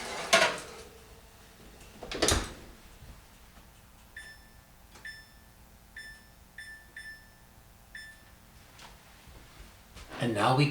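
Kitchen cleanup after a foil-covered manicotti dish goes into the oven: a few sharp clattering knocks of dishes and pans, spaced apart, with a run of electronic beeps between them.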